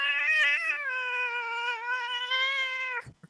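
A cat gives one long, drawn-out meow close up, loud and wavering at first, then ends abruptly with a brief rustle.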